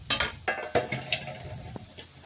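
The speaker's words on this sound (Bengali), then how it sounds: "ডালটা ঢেলে নিয়েছি। আর এই দেখুন ডালটা কিন্তু অনেকটাই ঘন আছে। নাড়াচাড়া করে মিশিয়ে নিচ্ছি।" Thick boiled dal is stirred into fried vegetables, including broccoli, in a pan, with several uneven knocks and scrapes of a spoon against the metal over a light sizzle, nearby and without speech.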